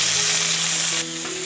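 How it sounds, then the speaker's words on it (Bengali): Cauliflower pieces frying in hot oil with salt in a pan, a steady bright sizzle that drops in level near the end, with a faint electrical hum beneath. "আবারও খুব ভালোভাবে নেড়ে চেড়ে ফুলকপিগুলোকে একটু ভেজে নেব।"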